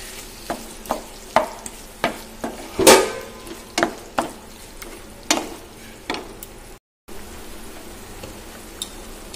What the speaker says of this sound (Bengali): এখন চিকেনটা দিয়ে দেবো, মশলা কষানো হয়ে গেছে,